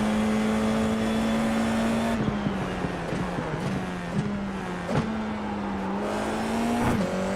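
A Formula 4 race car engine in iRacing drones loudly and steadily at the Portimao circuit, its pitch dipping and rising through gear changes and throttle lifts, with a continuous close-up buzz.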